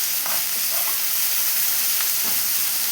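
Onions and dried red chilies sautéing in a pan, a steady close sizzle and crackle of frying with occasional stirring scrapes, no voices.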